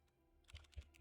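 Computer keyboard typing, a few soft keystrokes growing louder toward the end, close and alone with no talk.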